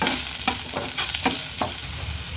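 Capsicum and carrot stir-fried in a pan: a steady hiss runs under rhythmic scrapes and clacks of a spatula tossing the vegetables, with no voices over it.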